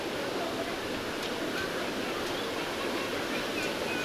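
A river at Kuala Kubu Bharu rushes beneath a suspension bridge, a steady, full, close wash of flowing water running continuously without a break.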